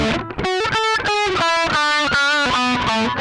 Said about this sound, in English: Here's my unaffected distorted tone to start us off with.